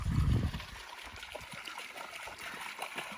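Pozo Creek runoff flows on a ranch in Kern County, California: a faint, steady trickling rush of running water heard from nearby, opening with a brief low thump.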